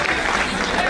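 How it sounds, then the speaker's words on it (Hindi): Audience applauding a solo dance performance at a function, a dense, continuous wash of clapping from a crowd, loud and sustained throughout. "एक बार जोरदार तालियां शुभा के लिए।"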